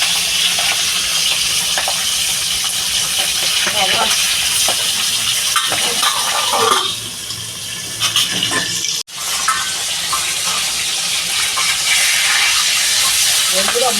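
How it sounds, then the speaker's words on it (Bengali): Pabda fish fry in oil under a covered pan, a loud steady sizzling hiss that dips briefly as the lid is shifted, then resumes at full strength. "ঢাকা দিয়ে ভাজবো আমি মাছগুলো"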